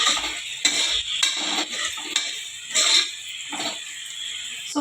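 Garlic paste is stirred in a cooking pan with a spoon, giving irregular scraping and clinking strokes against the metal, close and moderately loud, over a faint background sizzle.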